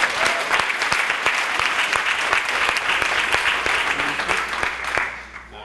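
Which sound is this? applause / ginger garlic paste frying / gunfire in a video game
applause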